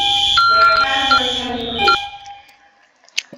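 A Fire-Lite MS-9200 fire alarm system sounds inside the Roblox video game, a loud, steady electronic alarm tone that holds for about two seconds and then cuts off, followed by a faint short beep.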